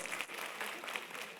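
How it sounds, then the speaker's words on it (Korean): An audience claps at a Korean public lecture on the humanities, a dense, steady round of applause from a crowd heard close and loud throughout with no pauses. "박수 주세요"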